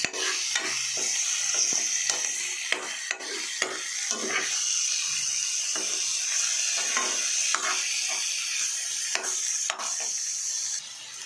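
Chicken pieces, including a leg piece, being stirred and mixed with onion and tomato in a pan for chicken fry; continuous sizzling with irregular scraping and clinking of the spoon against the pan, close and steady.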